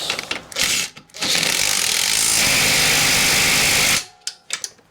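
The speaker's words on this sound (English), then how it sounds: "Got my drill." Power drill driving motorcycle motor mount hardware on an Evo Sportster chopper, with a couple of short bursts first and then a sustained whir of about three seconds, close up, with clicks and handling noises after it.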